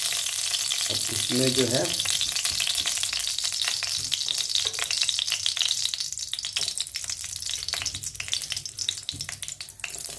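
Oil crackling loudly in a pan for a chickpea tadka with onion leaves, a dense continuous sizzle with popping bursts throughout, while a voice speaks briefly near the start.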